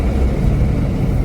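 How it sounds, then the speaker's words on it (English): Loud, low engine rumble of a 2022 Ford Bronco Wildtrak two-door downshifting from inside the cabin, a brief steady drone without speech. "Downshifting again."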